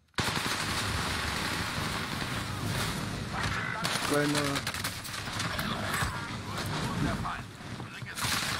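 Video game gunfire aimed at a mine, rapid bursts of shots over continuous background noise, with a player talking over the firing throughout.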